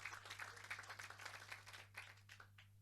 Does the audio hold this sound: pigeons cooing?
no